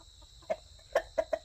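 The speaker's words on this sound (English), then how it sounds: "He's a great rooster." A one-eyed rooster with his hens near evening snack time gives soft, close, short clucks, four or five in a quick uneven series over a quiet background.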